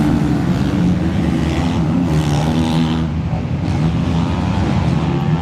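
Motocross motorcycles racing at an East Coast MX round in Cessnock as Dylan Woods makes a pass; a dense, loud engine roar runs steadily through the whole stretch, with no break in the noise.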